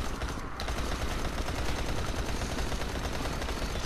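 Gunfire in the video game Dying Light, rapid continuous automatic shots emptying a full magazine, loud and dense across the whole stretch with no pause.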